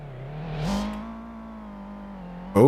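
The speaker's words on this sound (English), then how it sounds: "The RPMs go up." A car engine in a driving game made with Godot revs up, its synthetic tone rising in pitch and then holding level, ending in an abrupt louder burst.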